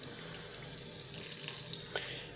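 Boiled water poured over dry pasta and vegetables in a pot, a steady splashing, hissing stream lasting a few seconds, fairly soft and close, with no talk.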